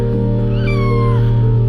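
Kittens found among trash meow, one clear rising-and-falling cry standing out over a loud, steady hum from a garbage truck.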